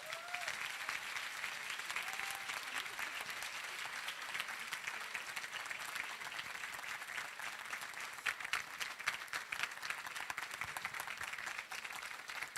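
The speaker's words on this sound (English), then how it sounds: "Can we get a round of applause for all of them?" Steady applause from a conference closing-ceremony crowd, dense clapping sustained throughout with a few louder claps standing out near the end.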